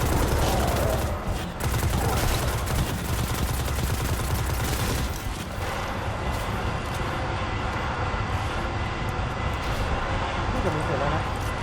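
Dense, continuous bursts of gunfire and heavy booming cannon shots in Destiny 2, loud and sustained, with a voice talking over the action.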